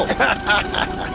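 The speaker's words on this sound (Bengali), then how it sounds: "এর আওয়াজটা লন মোভার ইঞ্জিনের মতো কেন?" A buzzy small plane engine drones steadily, rattling like a lawn mower, with voices talking over it.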